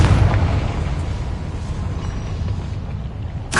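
Confringo blasting spell exploding in Hogwarts Legacy game: a loud rumbling boom that decays over a few seconds, followed by a sharp burst at the end.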